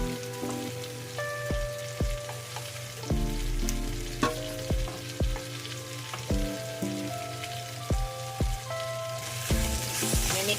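Garlic frying in a pan for Filipino pork adobo, a steady sizzle broken by repeated scraping stirs and clinks of a utensil against the pan, close and continuous with no talk.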